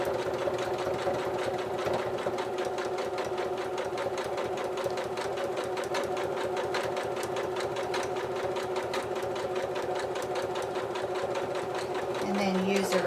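A sewing machine runs continuously and close, stitching over a strip of elastic and backing up in reverse to secure it while sewing a mini fabric wallet. The steady mechanical whir holds throughout.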